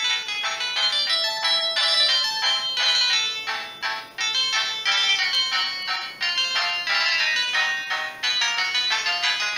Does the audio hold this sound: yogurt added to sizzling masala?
no